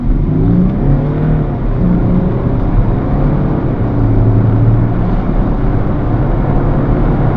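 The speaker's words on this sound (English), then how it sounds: "we're going to do 0 to 60 test" A 2012 Porsche Cayenne 3.0 in normal gearbox mode accelerates hard from 0 to 60, its engine droning loud and steady from inside the cabin with a continuous low rumble and rising tones as it pulls through the gears.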